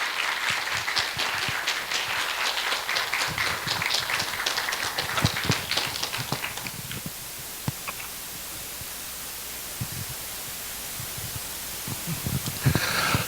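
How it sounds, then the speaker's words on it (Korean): A church congregation at a New Year revival service in Montgomery breaks into loud, dense applause that swells for several seconds, then thins into scattered claps and tapers off. "함께 박수해 주시겠습니다."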